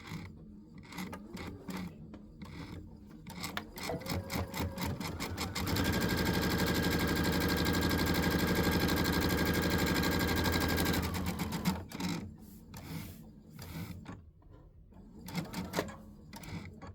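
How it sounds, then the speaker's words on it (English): A sewing machine top stitching the other side of a project starts and stops in short stitching bursts, then runs in a long, steady, close run of rapid needle clatter before settling into brief bursts again. "So now I'm going to go ahead and sew the other side"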